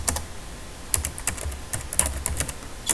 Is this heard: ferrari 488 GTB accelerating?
no